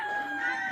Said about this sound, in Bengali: মুরগগুলো বাইরে ছেড়ে দিলাম।